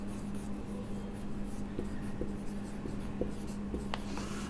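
A pen scratches steadily across a board or paper while equilibrium chemistry notes are written during a classroom lecture, a continuous soft scraping with a faint hum beneath and no talking.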